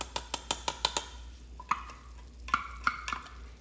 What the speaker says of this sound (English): And dump that in there and stir it up.